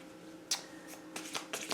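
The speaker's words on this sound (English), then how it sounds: "Shuffle these, but I don't want it to look like a few of the same cards." A deck of tarot cards is shuffled by hand: a few quick, crisp riffling bursts, soft and close, spaced irregularly over a quiet background.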